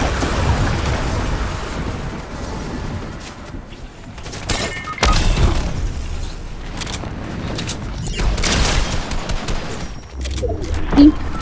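Sniper and other gunfire in a Fortnite match, a series of loud sharp shots and booming impacts spread across the stretch, some close and some more distant, over continuous game noise.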